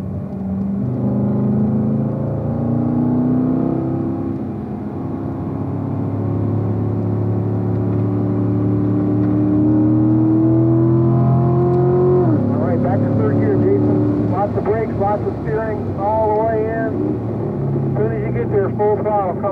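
A car engine at full throttle on the Spring Mountain track, a loud, close, sustained roar climbing through the gears, with someone talking over it.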